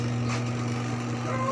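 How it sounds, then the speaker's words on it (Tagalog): Spin dryer motor spinning steadily on a test run, a loud continuous electric hum with a low drone that holds level throughout. "gumagana naman ang dryer."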